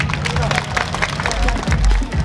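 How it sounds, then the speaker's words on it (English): A crowd applauds the mayor of Bangued at a public speaking event, with dense continuous clapping and murmuring voices throughout, plus a speaking voice over the top. "A round of applause for Mayor Dominic Valera."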